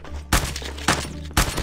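Three heavy shotgun blasts go off in Call of Duty Mobile, evenly spaced about half a second apart, each a sharp, loud crack with a short ringing tail.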